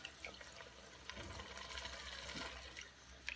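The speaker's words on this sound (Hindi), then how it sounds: "अब हम इसमें दूध शामिल कर देंगे।" Milk poured into a kadhai with sugar already mixed in while making anda bread halwa, a steady close liquid splashing and trickling that runs alone for about three seconds.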